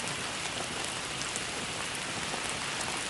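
Rain falls steadily in a dense, even hiss of drops striking surfaces, a constant wash of sound with no voices and no thunder.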